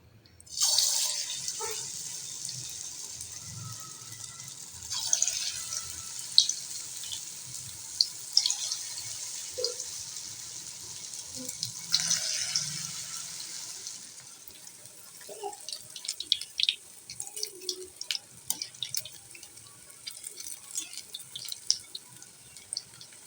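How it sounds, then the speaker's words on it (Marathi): Corn fritters (bhaji) frying in hot oil, a steady close sizzle with bursts of crackling and spattering that grow busier toward the end, with no talking. "आता छान आपण इथं भजी टाकून घेऊया"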